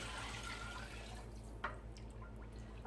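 Water pouring into a soup pot for kale soup, a faint, steady liquid stream with a few soft drips near the end, fairly quiet and continuous.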